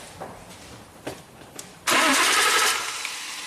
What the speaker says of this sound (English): Okay, go ahead, start it up again.